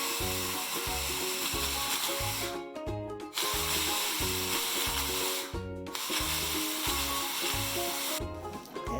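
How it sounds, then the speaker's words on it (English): An electric hand mixer beats butter with two tablespoons of cottage cheese for savoury salmon cupcakes, a steady loud motor whine with a rhythmic chopping pulse from the beaters, stopping briefly twice before starting again. "So now I add 2 tablespoons of cottage cheese and beat it all together again"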